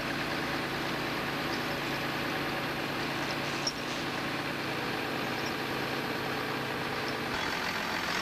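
A skidder's engine runs at a steady idle while heavy-duty tire chains are installed, a constant mid-pitched rumble with one brief knock partway through and no voices.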